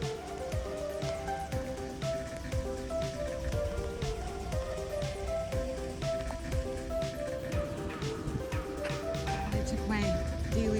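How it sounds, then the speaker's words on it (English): Rain falls in foggy Whittier, Alaska, a soft, quiet patter of scattered drops on surfaces, with a faint voice underneath. "It's raining"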